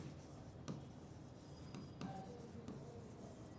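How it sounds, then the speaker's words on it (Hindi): Writing during a physics lecture, heard as faint scratching strokes, a few of them distinct, over a steady hiss of room noise. "फिर हम लिखते हैं"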